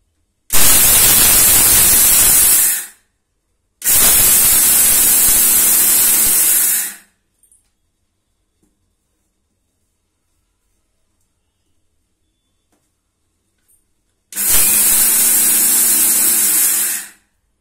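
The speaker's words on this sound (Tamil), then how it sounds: "இது நல்லா கழுவின பிறகு மிக்சியில் போட்டு ஒன்னா ரெண்டா அரைச்சு எடுத்துக்கலாம்." Mixer grinder coarsely grinding washed jowar (sorghum) grains, three loud, steady whirring runs of a few seconds each, separated by silent pauses.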